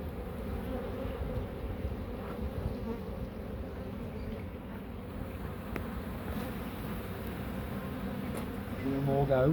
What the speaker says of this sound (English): God, there's lots of bees, isn't there